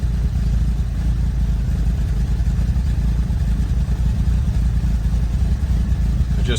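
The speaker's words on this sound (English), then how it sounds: "The idle is too high." A Lotus Elan engine with carburettors idles loudly and steadily at close range, a continuous low rumble with a faint mechanical clatter and no change in pitch.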